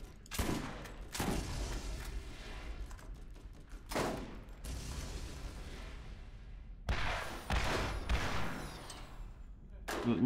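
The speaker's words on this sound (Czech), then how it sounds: "Pozor, střílí raketomety" Repeated heavy rocket launcher blasts boom out at irregular intervals amid combat noise in Borderlands, with voices talking underneath.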